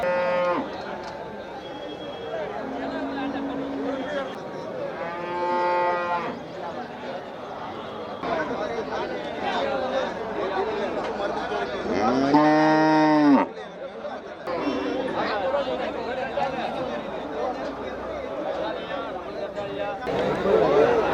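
Cattle, including native bulls and draft oxen, moo repeatedly at the Melapalayam livestock market, several long, loud calls near and far over constant crowd chatter and people talking.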